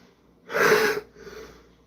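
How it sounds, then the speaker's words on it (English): A single harsh, breathy cough-like burst, followed by a softer raspy exhale, close and isolated with no talking. "you may hear me coughing and wheezing a little bit"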